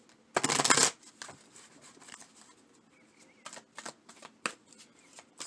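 Tarot or oracle cards are handled close and quietly: one louder riffling burst of shuffling comes first, then soft scattered flicks and taps as cards are moved and laid down, with no talk.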